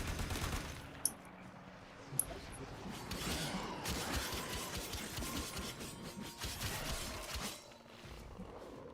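Weapon gunfire in the video game Warframe: dense, rapid rattling bursts of fire with a couple of sharp clicks near the start, continuous and fairly close, under faint talk.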